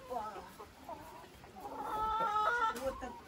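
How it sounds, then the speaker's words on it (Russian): Young chickens on a farm cluck and chirp close by, with calls overlapping and growing busier toward the end, over a faint background. "Это цыплята"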